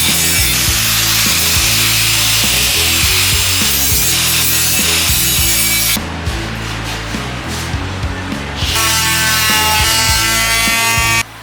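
A grinder works down welded tacks on a CB650 bobber motorcycle frame, a loud, close, continuous abrasive whine that shifts in pitch as the disc bites and eases, briefly dropping in tone midway before rising again.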